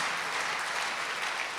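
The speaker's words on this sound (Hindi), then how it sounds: "हाँ भले जोर से ताली बजाओ उनके लिए।" Steady applause from an audience at a spiritual talk, a dense, even wash of many hands clapping together at moderate loudness, with no voices rising above it.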